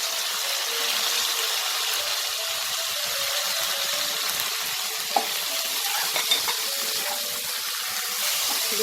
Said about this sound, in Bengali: মশলাগুলোকে সব ভালো করে একটু কষিয়ে নেব।